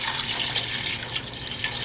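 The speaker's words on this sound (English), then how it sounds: "Add spring water," Spring water pours from a container into a cooking pot holding butternut squash chunks, a close, continuous splashing rush with no talk over it.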